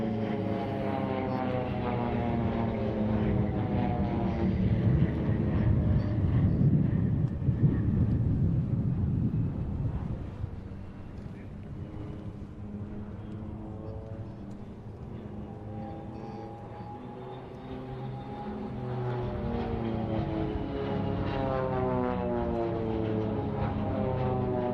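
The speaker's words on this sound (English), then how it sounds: "Two aircraft coming in from the right now." Two aircraft arrive at an air show, their propeller engines droning loudly and steadily with a broad rumble that swells, dips briefly, then builds again as they approach.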